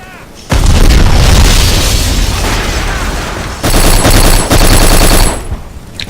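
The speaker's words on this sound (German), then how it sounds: "Hier wird scharf geschossen." Gunfire and explosions in the video game Black, with loud, dense bursts of automatic fire and booming blasts that fill most of the clip and briefly drop back between volleys.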